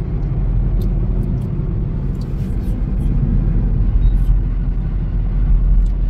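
A truck on a bridge gives a low, steady traffic rumble that runs throughout, close and fairly loud, while people talk quietly over it.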